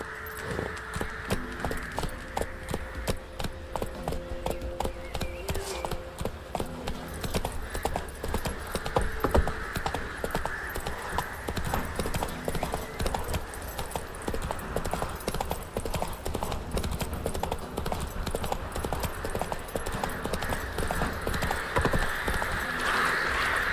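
Horse hooves clip-clop steadily through a gallop in The Witcher 3, a continuous rhythmic pounding heard alone for the whole stretch with a soft musical tone underneath at the start.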